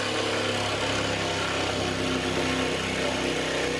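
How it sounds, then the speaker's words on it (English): A jigsaw cutting an outlet hole in a workshop wall, a steady loud buzzing motor drone with no pauses or speech throughout. "now I can use the jigsaw to cut out the rest of this"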